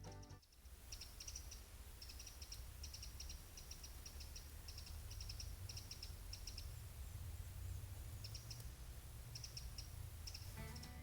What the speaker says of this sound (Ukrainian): Ви тільки послухайте цей спів птахів.